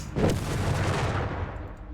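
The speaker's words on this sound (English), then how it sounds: "We got bombardment from the half-track there on the assault grenadiers here." Half-track bombardment in the video game Company of Heroes 3 gives a loud, dense burst of booming gunfire and rumbling explosions, sustained throughout with no one speaking.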